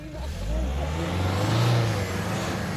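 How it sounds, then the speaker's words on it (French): A car engine revs hard and steadily at a village flea market, its loud growl rising and falling near the listener for a few seconds with a voice faintly underneath. "On fait rugir le moteur, t'as vu un peu?"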